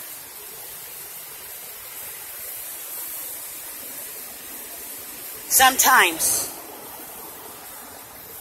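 Water rushes continuously over a dam as a broad, steady roar, with a brief spoken word breaking in near the end.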